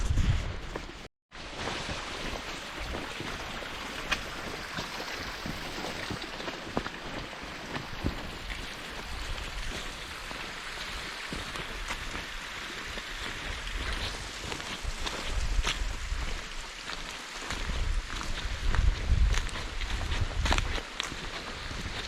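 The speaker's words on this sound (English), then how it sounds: "The wind is picking up" Wind gusting outdoors at an abandoned site, a steady broadband rush that swells louder toward the end, with rustling and footstep-like movement mixed in and no clear talk.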